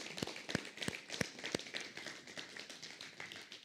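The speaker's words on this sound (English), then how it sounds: "I just want us to give God another hand clap for his faithfulness throughout this process" A church congregation claps, a few distinct sharp claps in a loose rhythm at first, then thinning into softer scattered claps at moderate distance.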